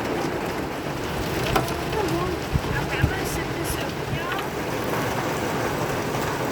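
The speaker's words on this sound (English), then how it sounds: "Big old drops of rain, huh? Yeah, it's hitting this side of the camper worse. It's pounding the window." Heavy rain pounds steadily and densely on a camper without letup, hitting the window, with a few sharper knocks and a faint voice underneath.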